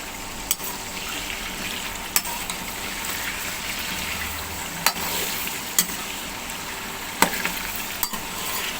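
Chicken tikka pieces fry in oil in a pan with a steady, dense sizzle, punctuated by several sharp clicks and taps from a utensil at irregular intervals.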